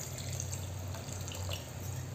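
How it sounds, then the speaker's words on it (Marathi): Water is poured into a pan of sautéed ridge gourd and peas, a faint close trickle and splash over a low sizzle, brief and unaccompanied by speech. "अजून थोडं पाणी टाकते मी"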